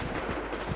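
A short burst of musket volley fire in the Assassin's Creed video game, dense overlapping crackling shots packed into under a second.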